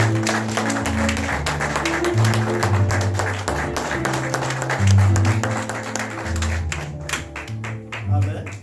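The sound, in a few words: audience applause as the evangelist comes forward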